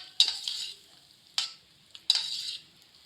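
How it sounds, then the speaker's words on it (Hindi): Boiled peas being stirred and fried in ghee in a pan for aloo matar biryani, heard as three scraping, sizzling bursts of stirring with quiet gaps between, close and moderately loud, with no talking. "उबले हुए मटर डालेंगे, इन्हें करेंगे मिक्स"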